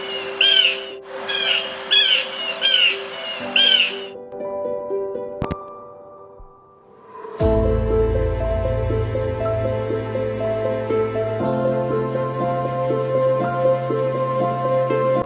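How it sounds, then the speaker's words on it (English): A blue jay gives four harsh, raspy calls in quick succession over a few seconds, then falls silent while a steady droning background takes over. "The blue jay is a noisy and fussy bird that belongs to the crow, raven, and magpie families."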